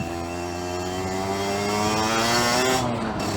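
A 2009 Aprilia RX50 50cc two-stroke motorcycle revs up while being ridden. The engine whine climbs steadily in pitch and stays loud and close throughout, with no talking.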